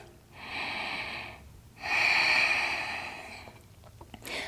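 Slow, audible breaths during a held yoga hamstring stretch: two long airy breaths, the second louder and longer, close to the microphone, followed by a short quieter pause and faint rustling.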